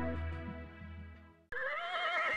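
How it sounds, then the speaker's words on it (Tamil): An Arabian horse in an animated Tamil folk story gives a drawn-out whinny with a wavering pitch that fades away. A sharp, bright, different sound cuts in abruptly after it. "இந்த குதிரை அரேபியன் வகையைச் சேர்ந்தது"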